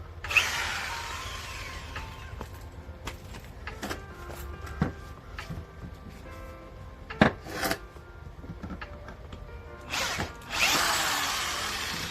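Power drill backing screws out of panels during the first day of a van rebuild, bursts of whirring separated by short pauses and clicks, close and fairly loud, ending in a longer high-pitched run.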